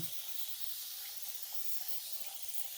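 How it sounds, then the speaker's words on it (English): Water sprayed onto a 16x20 canvas to prep it for painting: a steady, continuous hiss of fine mist lasting throughout, moderately close, with no talking. "So what I'll do is I'll prep that with some water. Just spray it down now."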